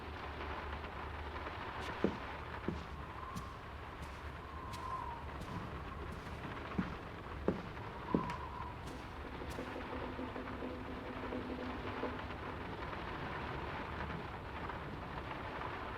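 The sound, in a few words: heavy rain in a video game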